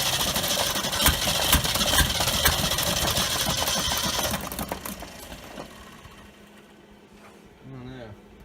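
A 1969 Ford F250 truck engine, started for the first time after sitting for 11 years, cranks and runs with a loud, rough, pulsing rumble that fades after a few seconds, followed by a voice speaking briefly.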